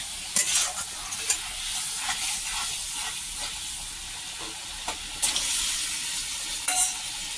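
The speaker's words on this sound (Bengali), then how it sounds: "মশলা কষানো হচ্ছে" Spices sautéing in a hot pan for a prawn and pointed gourd curry, a steady close sizzle and hiss with a few sharp stirring scrapes across the pan.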